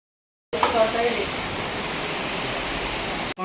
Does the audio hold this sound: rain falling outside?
yes